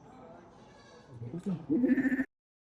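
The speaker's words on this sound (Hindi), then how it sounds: "इसमें गोट्स हैं अलग अलग नस्ल की। ऐसा गोट फार्म ये आप देख सकते हैं।" Goats of different breeds on a 400-goat farm give a few close, wavering bleats near the end, with people talking in the background.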